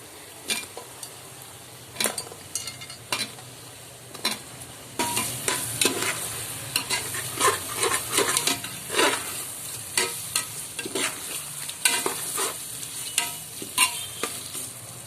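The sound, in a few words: stirring biryani masala with a ladle in a pot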